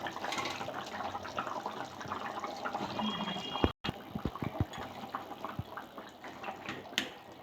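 Pona fish pieces drop into a simmering potato curry with soft splashes and plops, then quiet bubbling, all fairly faint and close by.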